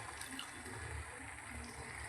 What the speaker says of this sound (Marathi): ह्यात मी चिंचेचं पाणी ॲड करत आहोत